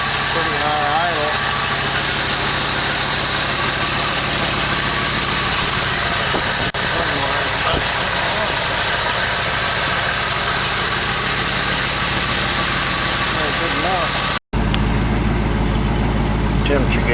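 A 1968 AMC AMX 401 V8 with a bad lifter holds a high idle around 1200 rpm, a steady loud rumble with fine mechanical ticking throughout, cutting briefly near the end before the idle resumes.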